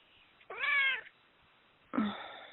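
A pet cat meows twice indoors, a drawn-out, clear mew followed after a pause by a shorter, rising one, close and moderately loud against quiet room tone.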